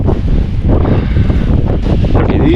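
Strong snowstorm wind roars loud and unbroken, buffeting hard against the microphone with a deep rumble and no letup.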